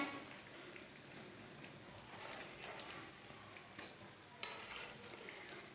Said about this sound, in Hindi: ये वाली साइड से भी टिक्की हमारी फ्राई हो चुकी हैं।